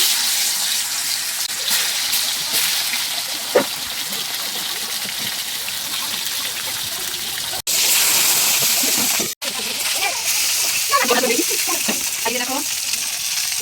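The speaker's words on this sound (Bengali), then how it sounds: "এখন মাছ ভেজে নিচ্ছি" Pangas and snakehead fish frying in a pan, a loud continuous close sizzle with crackling spits, brief stirring clatter and a couple of sudden cuts in the hiss.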